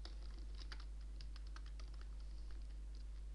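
A file name is typed on a computer keyboard in a quick, close burst of key clicks over a low steady hum, with no one speaking.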